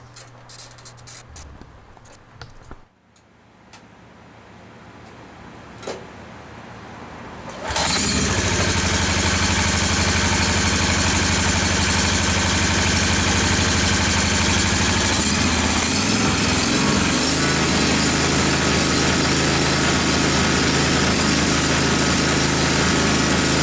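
A Kawasaki small engine, freshly fitted with a new ignition coil, is cranked after some quiet handling clicks, then fires and catches abruptly into a loud, steady high-pitched idle that runs on close by.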